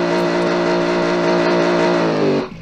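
A V8 race car engine in the Automation driving game revs loud and steady with a strong, rich drone for over two seconds, then cuts off abruptly near the end.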